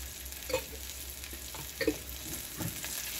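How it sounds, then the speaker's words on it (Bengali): Onion and chili masala with ginger and garlic paste frying on high flame in a pan, a steady broadband sizzle with a few louder scrapes and clinks of stirring, no talking. "তারপর আমি এটা এখানে মিক্স করতে থাকবো যেন পেঁয়াজ মরিচের কাঁচা গন্ধটা চলে যায়"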